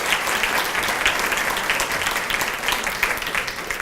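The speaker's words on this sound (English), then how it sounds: "So if you can give a round of applause for these folks." A banquet audience claps steadily for honorary board members, a dense and even round of applause with no voices over it.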